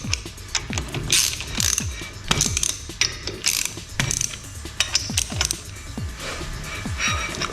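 A ratchet tightens bolts on a VW T4 Syncro during service, loud close clicking in quick rhythmic bursts, each run of pawl clicks separated by short pauses and metallic creaks.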